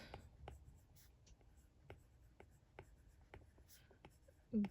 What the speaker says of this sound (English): And I'm going to write Wild Cards